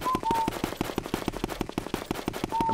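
Rapid video game gunfire in Luigi's Mansion, a steady machine-gun rhythm of evenly spaced shots fired close and loud throughout, with a brief tonal beep over it.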